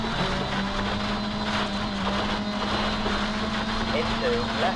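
Peugeot rally car in a World Rally Championship game, engine held at full throttle with a steady, droning high-revving tone throughout, while someone talks over it.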